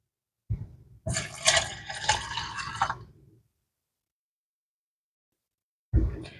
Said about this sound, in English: I'm going to do a cup of milk into each container.